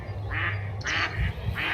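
Three loud, nasal duck quacks sound close by in Eschweiler, Germany, evenly spaced, over low background rumble.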